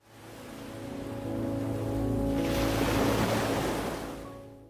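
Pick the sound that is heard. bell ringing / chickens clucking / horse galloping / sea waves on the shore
sea waves on the shore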